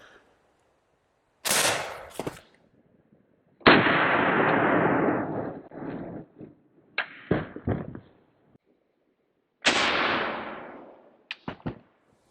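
Three loud, sharp AR rifle reports ring out at close range during a test on a STRATIS Level IV multi-curve body armor plate, each followed by a decaying echo and a few quick clatters, with quiet gaps between the blasts.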